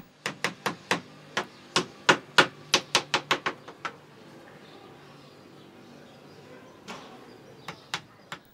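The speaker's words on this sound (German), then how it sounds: "Überall wird geklopft und gehämmert" Hammering in craftsmen's workshops of the Essaouira medina, Morocco, where furniture makers and wood carvers work: a quick run of about a dozen sharp taps, then a pause with a low murmur, then a few more scattered knocks.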